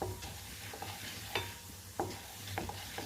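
Ingredients for a brinjal and fresh coconut chutney fry quietly in a pan: a faint, continuous sizzle broken by a few sharp stirring clicks and scrapes.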